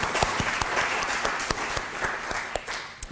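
An audience at a Pirate Party EU congress applauds, producing a dense, continuous clapping from a crowd with a few sharper individual claps standing out.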